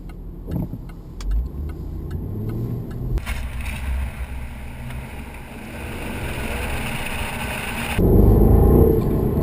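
A 2013 Jaguar XKR drives and turns left, its engine hum steady and rising, swelling louder in the final seconds, with faint clicks early on and no talk over it.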